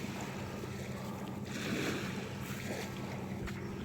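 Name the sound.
waves on a beach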